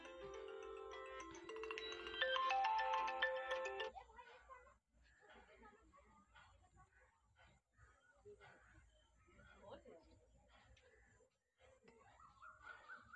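A phone ringtone plays briefly at the start, a loud electronic melodic tone lasting a few seconds, then cuts off, leaving quiet room noise and someone speaking intermittently.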